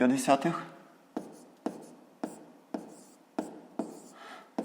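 Numbers being written by hand during a fifth-grade maths exercise on fractions, a run of crisp, evenly spaced strokes after a brief burst of talk at the start.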